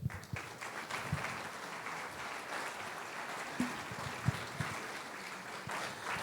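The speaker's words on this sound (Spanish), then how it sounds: "Lo vamos a recibir con caluroso aplauso." Warm applause from a church congregation, a soft continuous spread of many hands heard from a distance, with a few louder individual claps standing out.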